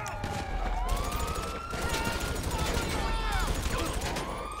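Police siren in the video game GTA, a wailing sweep that rises and falls over dense game noise and rapid gunfire, with a player talking.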